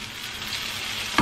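Potatoes fry in hot oil with a steady, close sizzle and crackle, and a brief clink of a utensil comes at the end.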